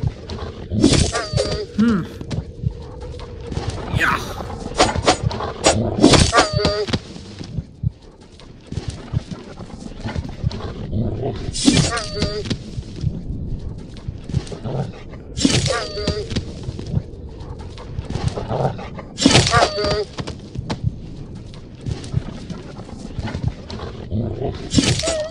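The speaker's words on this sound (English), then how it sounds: "Dogs." Dogs growl in the video game A Blind Legend on iOS, with harsh snarling bursts returning every few seconds over a rumbling, busy game soundscape.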